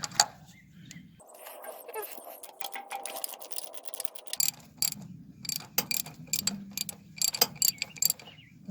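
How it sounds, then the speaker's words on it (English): Irregular mechanical clicking and ratcheting from the pedal mechanism of an old Cat 955L crawler loader, close by, with sharp bursts of clicks coming in quick uneven runs over a low background rumble. "It's making that clicking noise."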